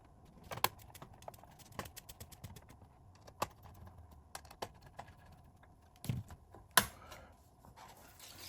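Machine screws are driven back into the cover of a Sony XAV9500ES 10.1-inch head unit for a 2011-2013 Jeep Grand Cherokee, giving sparse, close, quiet clicks and small metallic ticks with no talking.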